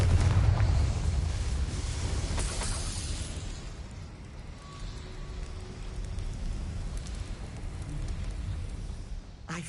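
A blasting spell goes off in a Hogwarts Legacy castle scene: a heavy boom at the start that rolls into a long, rumbling crackle of debris, fading slowly under steady low ambience.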